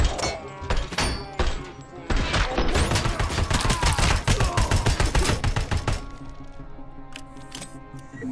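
Rapid gunfire from a weapon in the video game RoboCop: Rogue City, a dense run of sharp, loud shots for several seconds with game sounds and a voice underneath, then tapering into quieter ambience.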